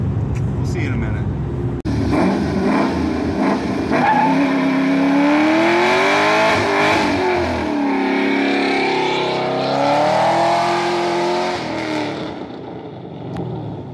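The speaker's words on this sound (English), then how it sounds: "it was a little smoky burnout" A car doing a smoky tire burnout, the engine revving hard as the tires squeal and skid in a long continuous howl, loud and close, rising in pitch and fading out at the end.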